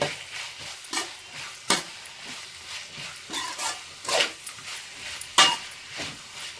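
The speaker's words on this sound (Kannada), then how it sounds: "ಹಾಗೆ ಕ್ಯಾಪ್ಸಿಕಮ್ ಕೂಡ ಹಾಕ್ಕೊಳ್ಳೋಣ. ಚೆನ್ನಾಗಿ ಮಿಕ್ಸ್ ಮಾಡ್ಕೋಬೇಕು." Cabbage and capsicum are stirred in a hot pan for hotel-style paneer fried rice, giving close, irregular scraping and clattering strokes over a soft background sizzle, with several sharper knocks of the spatula against the pan.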